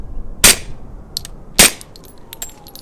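Two sharp suppressed .45 ACP pistol shots through an OSS RAD 45 suppressor at an outdoor range, spaced about a second apart, each a crisp loud crack with clanking slide action after it.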